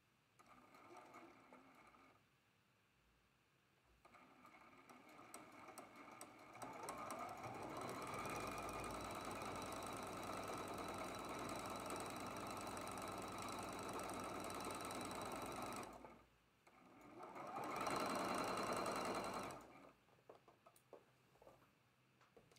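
A sewing machine stitches a quilt block in two runs, a long steady mechanical rattle lasting about nine seconds and then a shorter burst, separated and framed by quiet handling sounds.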